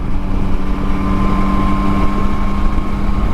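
A 2021 Yamaha Tracer 9 GT triple-cylinder motorcycle engine running with a steady droning hum and a few constant tonal lines, fairly loud and unchanging, with no talking.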